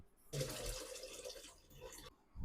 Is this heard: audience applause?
no